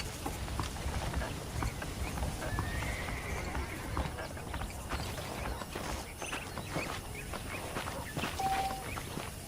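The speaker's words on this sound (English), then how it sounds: "The horses are saddled up over here." Saddled horses stand and move in a Wild West town in the video game Red Dead Redemption, hooves clip-clopping in loose rhythm with whinnies and snorts over a faint outdoor ambience.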